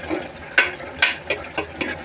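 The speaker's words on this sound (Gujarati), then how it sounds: "અને આપણે શાકને હલાવીશું." Mixed vegetable sabzi is stirred in a pan on the gas, with five distinct scraping strokes at an uneven pace over a soft frying hiss, close and fairly loud.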